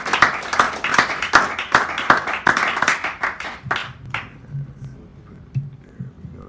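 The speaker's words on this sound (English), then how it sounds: "Give her a nice round of applause" A small audience at a café poetry hour claps for the next poet, with close, distinct, rhythmic handclaps that stop after about four seconds, followed by quiet room murmur.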